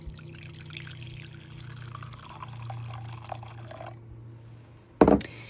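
Hot water is poured into a container at a craft table, a soft trickle and fill that runs for a few seconds before stopping, followed by a brief sharp clatter, with no talk.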